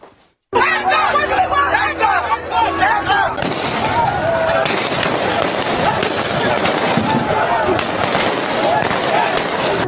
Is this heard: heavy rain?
no